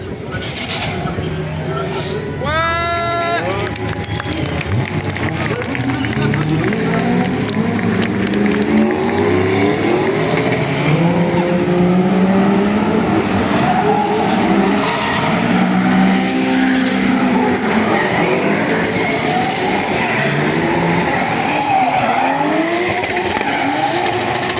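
Cars racing and skidding around an ice track, with engines revving and rising and falling in pitch as they pass, and tires squealing, steady and fairly close throughout, with voices talking over it.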